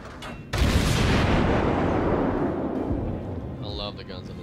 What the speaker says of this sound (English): I think I can fire max range of this Kuma and hit him.